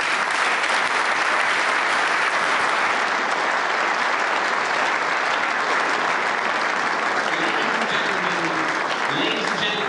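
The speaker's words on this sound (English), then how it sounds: "Let's give him a round of applause." Sustained audience applause at the 62nd Munich Security Conference, a dense, loud, even wash of clapping from a large hall crowd lasting the full stretch without a break.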